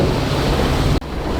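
Wind and sea swell wash loudly against a sailing boat on a rough passage, a steady rushing roar with a brief dropout just before the end.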